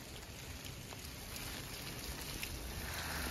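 Steady rain falling in the hills at Mussoorie, a dense, even hiss of drops on surfaces that holds without pause, close and continuous with no voices.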